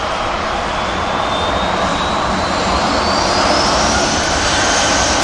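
Aircraft on a taxiway at Manchester Airport give off a loud, continuous jet roar with a high turbine whine that climbs gradually through the short stretch.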